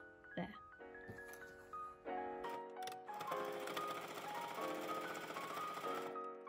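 A sewing machine stitches a fabric napkin edged with trim, running in short bursts that build into a longer continuous whirring run, close and fairly quiet.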